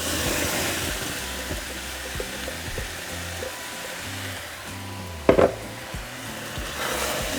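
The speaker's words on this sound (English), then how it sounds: "now we're going to add our salsa" Eggs frying in a pan as salsa ranchera is stirred in, a steady sizzle with soft rhythmic scraping and a brief clatter midway, no voices.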